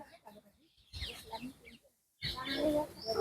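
Peacocks in the grounds of an ashram give short, scattered bird calls in bursts, mixed with nearby voices talking and gaps of near silence.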